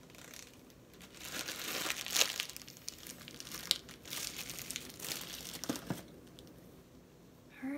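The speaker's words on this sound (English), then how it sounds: "And that's why this stays in a plastic bag" A plastic bag crinkles and rustles in steady handling bursts, close and fairly quiet, with brief louder crunches along the way.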